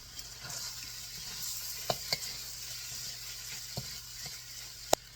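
Eggs mixed into hot masala for Kerala mutta puttu sizzle steadily in a pan, with a few sharp clicks of a spoon against the pan standing out.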